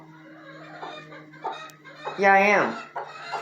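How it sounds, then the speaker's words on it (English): A broody hen, puffed up, gives a low clucking broody song with a brief louder rising call near the middle, close by, while a person speaks softly over it. "See how she's puffed up? That's that broody song."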